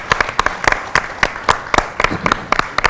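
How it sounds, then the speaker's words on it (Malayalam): A studio audience on a TV show stage claps in a sparse, fairly rhythmic pattern, crisp individual hand claps landing close together at a steady pace with little else around them. "നമ്മൾ എല്ലാവരും കൂടെ കൈയടിച്ച്"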